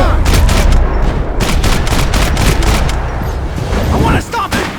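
Sustained, loud gunfire from the action video game Max Payne 3, with dense overlapping shots and booms that continue almost without a break.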